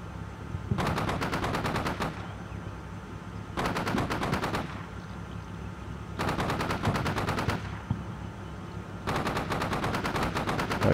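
Infantry gunfire in the war game Combat Mission Shock Force 2, with four long bursts of rapid automatic fire separated by short pauses, crisp and fairly close, with no talk.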